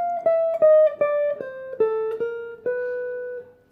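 Guitar slowly picking the opening bar of a jazz line, seven or eight clean single notes stepping down in pitch, each plucked and ringing into the next, the last held longer, played alone.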